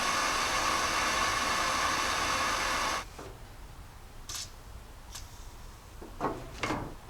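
A torch heats a seized brake line fitting on a Jeep J10 during a master cylinder replacement, a steady broadband hiss for about three seconds that cuts off, followed by a few faint clicks and scrapes.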